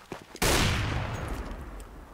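Counter-Strike gunfire in a firefight on de_dust2, heard in a competitive match: a sudden loud burst of shots erupts after a short quiet lead-in and then trails off into a fading echo.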